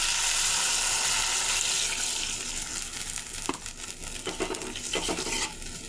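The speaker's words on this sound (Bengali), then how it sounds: "এখন আমি ঝোল দিয়ে দেব গরম জল দিয়ে দিলাম" Hot water being poured into a pan of gravy for a Bengali tengra fish curry: a steady broad rush of pouring liquid at first, giving way to quieter bubbling and a few clinks of utensils, close and with no talking.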